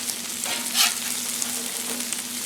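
Shrimp sizzle steadily on a hot Blackstone griddle, a continuous close frying hiss with brief louder bursts as they are stirred or turned.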